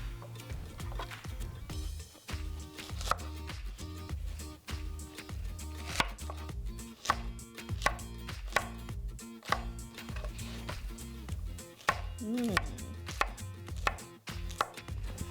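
A knife chops apple pear into cucumber-sized pieces on a cutting board, a brisk, close run of repeated sharp knocks that continues almost without a break.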